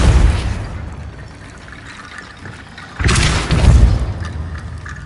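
A Depulso spell blast in the video game Hogwarts Legacy: a rumbling whoosh fades down, then a second loud booming burst hits near the middle and tails off.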